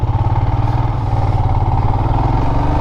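A 2016 RTL motorcycle engine running steadily and loudly up close, with a smooth, even throbbing idle and a faint mechanical clatter throughout.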